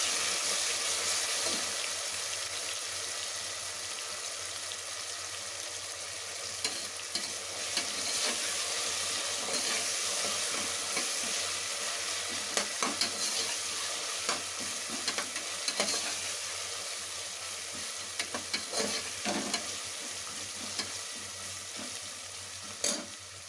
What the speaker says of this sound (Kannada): ಇದು ಸ್ವಲ್ಪ ಹೀಗೆ ಫ್ರೈ ಆಯ್ತಾ ಬರ್ತದೆ